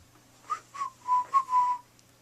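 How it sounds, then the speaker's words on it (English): A person whistles a short tune alone in a quiet room, five clear pitched notes, two brief ones followed by longer held tones, close and fairly soft. "And if it's not, can you whistle?"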